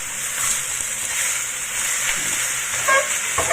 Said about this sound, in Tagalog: So, i-fry lang din natin sandali yung ating chicken hanggang sa magka-brown ng kaunti